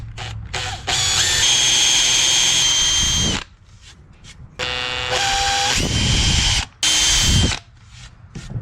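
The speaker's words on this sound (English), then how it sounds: "Let's go ahead and pre-drill those holes for those cross pieces in the headboard and footboard" A power drill pre-drills holes in 2x4 construction lumber for a bed frame, whining in three loud sustained runs of a few seconds each, broken by short pauses and brief trigger blips, close and with no speech.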